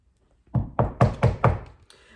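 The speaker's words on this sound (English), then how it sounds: "Soon, the wolf comes knocking on the door." Five firm, evenly spaced knocks on a door, close and distinct, followed by a brief faint thud, with silence around them and no talking.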